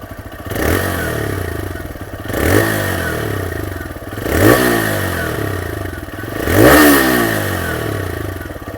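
A TVS Raider 125cc motorcycle engine is revved hard three times from idle. Each blip rises to a loud exhaust roar and falls back, with a steady idle burble between the blips, recorded close.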